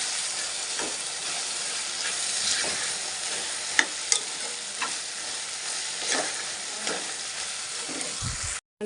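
Brinjal and egg curry with curry leaves hisses steadily in a pan as a spoon stirs it, with a few sharp scrapes and taps against the metal over the constant sizzle, close up and without speech.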